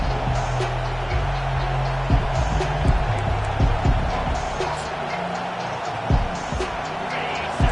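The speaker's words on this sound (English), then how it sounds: "Decibels rising as the crowd gets behind this defense on 3rd down." Roaring stadium crowd in the Madden football video game on a third-down defensive play, a dense steady wash of noise with scattered thumps and swells throughout.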